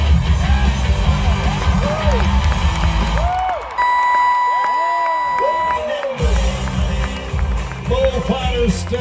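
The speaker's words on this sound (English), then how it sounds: "Bullfighters step in and the crowd goes wild" A rodeo crowd at the NW Montana Fair cheers and whoops after a bull ride, loud and close, with an announcer's voice riding over the roar and a brief electronic tone mid-way.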